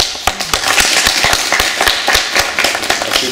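A small audience applauding at a gathering about Guinea, with sharp individual claps in an uneven rhythm, loud and close, over a hissing room wash.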